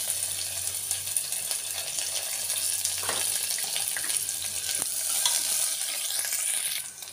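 Onion sizzling in hot tempering oil with cumin and mustard seeds in a pan, for a peas and potato bhaji. A steady, close frying hiss runs throughout, with occasional stirring scrapes and no talking.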